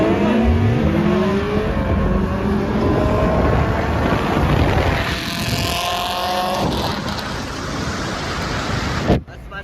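A K24-engined race car roars loudly and steadily through a drag-strip run at a night track event, its engine note climbing through the gears, with wind buffeting the microphone and a voice talking faintly underneath.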